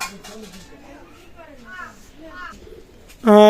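Domestic pigeons cooing in a loft give soft, repeated low coos close by, ending in a sudden loud, tonal burst of calling.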